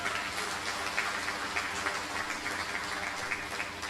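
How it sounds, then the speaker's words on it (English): Award ceremony crowd applauding, a dense, steady wash of clapping lasting the whole stretch, fairly faint and distant with no break. "Give yourself a round of applause."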